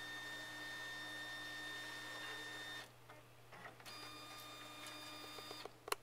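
A Brother scanner pulls pages through its top feeder with a whirring motor drone and tonal hum, a short pause, then more feeding with clicks and a final clunk, close and quiet.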